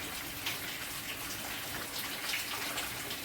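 Steady rain pours down in a dense, even hiss, with a few brief heavier splashes standing out.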